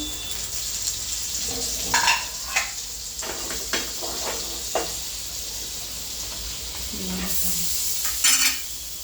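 Butter sizzling in a pan while Kadai Paneer is cooked restaurant style, a steady frying hiss with a spoon stirring and clinking against the pan several times, close and moderately loud.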